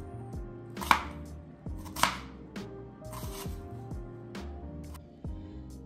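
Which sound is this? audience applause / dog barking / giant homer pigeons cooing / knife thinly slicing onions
knife thinly slicing onions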